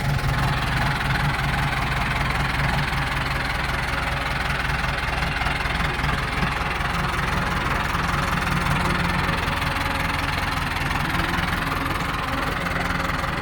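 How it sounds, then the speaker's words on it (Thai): A Thai TS90 vehicle fitted with a large air filter runs its engine during a test, a steady rough mid-to-low rumble with a knocking idle throughout, continuous and fairly close with no talking. "เดี๋ยวจะทดลองรถกันนะครับ"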